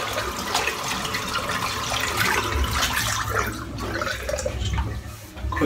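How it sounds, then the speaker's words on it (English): Running tap water pours steadily as a shaving bowl is rinsed beneath it, a continuous close splashing wash that fills the whole stretch without talk. "I'm going to rinse off my bowl."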